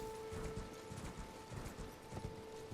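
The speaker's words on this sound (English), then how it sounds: "just simply call your horse and jump over" Horse hooves clip-clopping in the video game Elden Ring, a steady run of close, even hoofbeats over a constant hum of game ambience and music tones.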